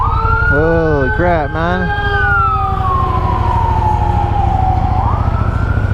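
Emergency vehicle sirens wailing and yelping as they pass through a city intersection, loud and close over steady road noise, with the tone sweeping up and down, while a man briefly exclaims over them.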